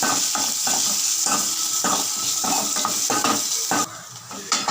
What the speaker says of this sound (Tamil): பொரிஞ்சதும் வெட்டி வச்ச பெரிய வெங்காயத்தை சேர்த்துக்குவோம். நல்லா வதக்கி விடுங்க.